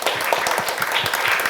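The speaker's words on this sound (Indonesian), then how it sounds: "Tepuk tangan dong." Applause from an audience at a school workshop, a dense, steady clatter of many hands clapping together for the full length without any break.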